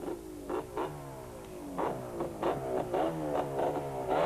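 Sidecar racing bike with a live rear axle, its engine revving repeatedly from a distance with rising and falling surges during racing, fairly faint against the open-air background.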